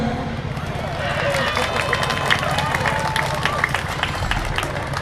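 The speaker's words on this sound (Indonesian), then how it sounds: "Ayo tepuk tangan." A gathered crowd in Banyuwangi claps together at a speaker's urging, producing a steady, fairly loud wash of hand claps with a faint murmur of voices mixed in.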